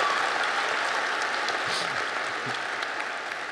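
Applause at a university business school commencement ceremony, a large crowd's steady, even wash of clapping heard from a distance, with a few faint voices underneath.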